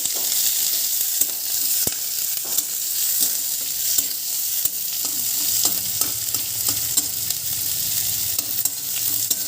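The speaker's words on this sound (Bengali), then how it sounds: "খেটে রেখা পেঁয়াজ আর লঙ্কা ছেড়ে দেবো এইগুলো একটু ভেজে নেব" Chopped onions and chillies fry in hot oil for an aloo dal recipe, a loud, constant crackling sizzle close up, punctuated by repeated quick scrapes and taps of a stirring spoon, with no voices.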